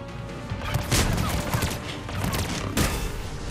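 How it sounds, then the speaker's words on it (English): Charged sniper rifle shots in Mass Effect 3, two heavy booming reports about two seconds apart over a dense, noisy combat backdrop, fairly loud and close, no talk. "I like how it sounds. It's like firing a gun."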